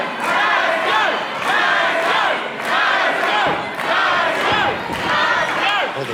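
Crowd at the MCW High Stakes 2026 wrestling event in the Thornbury Theatre roars and chants in loud rhythmic waves, the swells rising and falling about once per second with no talk over it.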